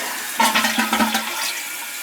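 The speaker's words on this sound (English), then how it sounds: "let's see if it flushes" A toilet flushes with a surging rush of water and gurgling, close by and fairly loud, then settles into a steadier wash of running water over the two seconds without any talk.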